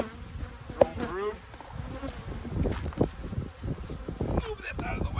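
Honey bees at an opened hive during a spring inspection make a dense, close buzz, with individual bees zipping past and frame handling clicks mixed in.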